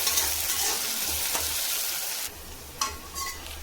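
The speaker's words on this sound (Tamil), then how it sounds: "பாருங்கள், வெங்காயம் நல்லா வதங்கிடுச்சு." Onions and mustard seeds frying in hot refined oil in a pan for a mushroom paneer butter gravy, giving a steady close sizzle with a few brief clinks and stirring scrapes, no voices.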